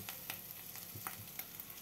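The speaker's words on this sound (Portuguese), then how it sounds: "Aí eu tornei a temperar ele e já levei direto no óleo quente" Seasoned food fries in hot oil with a soft, crackling sizzle. Small pops rise and fall throughout the short stretch.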